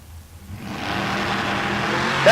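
A fifth-generation Camaro launches down the right lane of a drag strip at Tulsa Raceway Park, the engine swelling from quiet into a sustained loud roar within a second.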